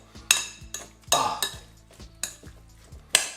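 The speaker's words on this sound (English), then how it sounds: "Mix it together in this big bowl" Spring onion and garlic being mixed in a big bowl for Jamaican-style curry beef, with a series of sharp clinks and scrapes of a utensil against the bowl, irregular and close, with no talking.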